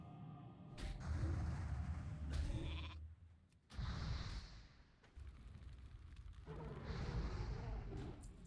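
Bleating sheep calls from a polymorph spell in a video game repeat over busy game sound effects and low rumbling blasts, loud and close, with brief gaps between bursts.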